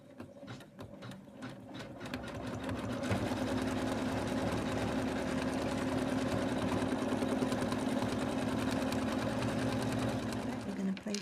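Embroidery machine stitching a hat outline on a snowman stocking, a fast steady mechanical chatter that ramps up and holds loud and close, with talking over the start.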